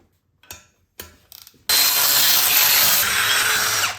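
A ratchet clicks in a few short bursts on bolts of a BMW N20 engine during a rebuild, followed by a loud, sustained rattling mechanical whir, close and without talk.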